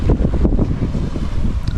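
Steady wind noise buffets the microphone aboard a sailboat beating close-hauled in about 11 to 12 knots of breeze, loud and continuous with a low rumbling roar and no voices.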